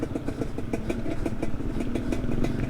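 A Gpx Moto Chinese clone dirtbike engine runs at a steady, rapid, pulsing idle-to-low rev, close and moderately loud with a clattery mechanical rhythm and no talking.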